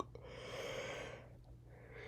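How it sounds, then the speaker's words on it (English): A single drawn-out yawn, breathy and rising, then trailing off into a soft exhale, close and quiet. "that was my third yawn"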